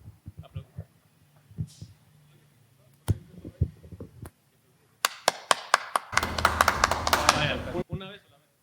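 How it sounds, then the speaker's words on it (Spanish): A group clapping in loose unison, several sharp claps at first, then a dense burst of applause lasting about two seconds, with brief talk and a murmur of voices before it. "vamos a hacer el aplauso."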